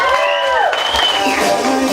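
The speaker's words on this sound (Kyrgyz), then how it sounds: "Ал эми эң жакшы аткарган өкүленесине кол чабуулар." An audience at a contest applauds and cheers in a short burst of crowd noise. A loud announcer's voice rings over the clapping throughout.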